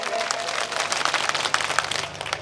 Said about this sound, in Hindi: अगर आप संजीदगी के साथ मुझे एक बार जोरदार ताली बजा करके